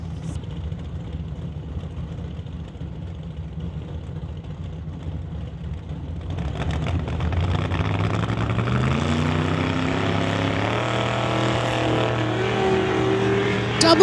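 Two Chevy Super Pro class drag race cars idle low at the start line, then roar off together with a sharp rise in engine pitch, loud and close.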